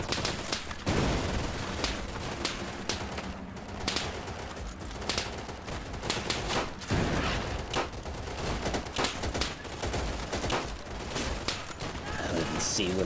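Chaotic gunfire in the video game Easy Red 2, with dense overlapping shots and bursts through the whole stretch over a constant noisy battle backdrop.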